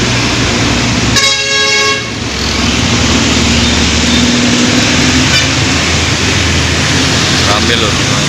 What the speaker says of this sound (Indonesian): Ini dari arah timur ada bus Bagong Surabaya Kediri Tulungagung.